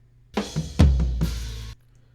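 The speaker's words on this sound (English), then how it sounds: "So without the triggers on the toms, my toms sound like this." Untriggered acoustic drum toms are struck a few times in quick succession, a couple of lighter hits followed by a heavy, booming low hit that rings out before cutting off, played alone and close.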